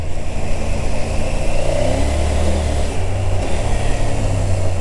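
Engine revving hard under steady acceleration, a loud continuous drone with a rising and settling pitch, close and unbroken, no voices.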